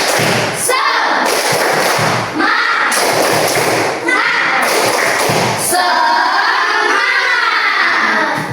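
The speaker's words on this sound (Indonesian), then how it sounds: "Kita ice breaking dengan tepuk semangat" A group does a 'tepuk semangat' clap chant, repeated bursts of rhythmic hand clapping with short pauses between them, joined by loud shouted voices chanting together.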